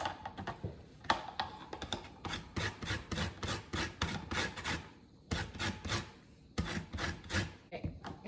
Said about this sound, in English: before I cut and squeeze these lemons, I need to zest them because I also need some lemon zest here in just a minute